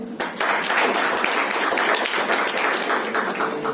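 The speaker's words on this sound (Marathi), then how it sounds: "मग टाळ्या होऊ दे" Audience applause at a women's business meeting in Badlapur, a dense, steady wash of many hands clapping that fills the room for several seconds before tapering slightly.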